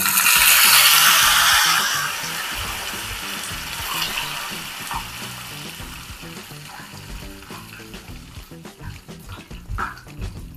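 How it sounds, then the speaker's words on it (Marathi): Curry leaf water is poured into a hot oil tempering of mustard seeds and cumin, setting off a loud burst of sizzling that fades into steady crackling and scattered pops. "आता कढीपत्त्याचे पाणी टाकून देऊ."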